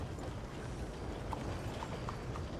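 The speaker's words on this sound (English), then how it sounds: "말이 따그닥거리는 소리가 너무 경쾌하네" A horse's hooves patter lightly and faintly in Red Dead Redemption 2, a quick run of soft steps under a dense, steady game ambience with no speech.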